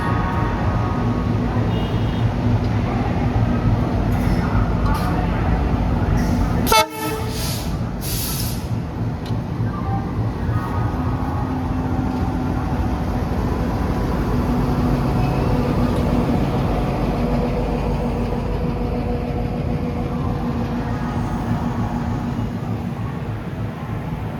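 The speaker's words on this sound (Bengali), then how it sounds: "ঢুকছে কবিগুরু এক্সপ্রেস।" The Kaviguru Express with new LHB coaches rolls into a station on its first run, a steady low rumble of wheels and coaches with a brief sharp hiss of air brakes partway through.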